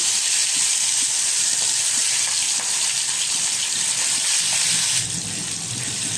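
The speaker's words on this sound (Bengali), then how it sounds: "তেলটা গরম হয়ে গেছে, এখন মাছগুলি আমি ভেজে নিচ্ছি।" Pieces of katla fish frying in hot oil, a loud, dense, continuous hiss close up that softens slightly toward the end, with no talking.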